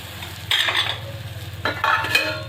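A tadka of hot oil sizzles in a pan as turmeric goes in for Marathi amti, with two loud bursts of crackling and a spoon scraping and stirring close by.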